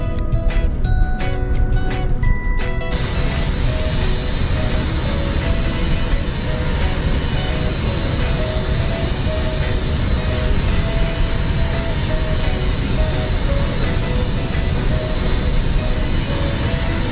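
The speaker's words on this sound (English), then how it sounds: "There goes a flyby view, ladies and gentlemen, of the magnificent Boeing 727." A Boeing 727 jet in Microsoft Flight Simulator roars past in a flyby, a loud, steady, broadband engine rush with a high whine that holds for the whole span.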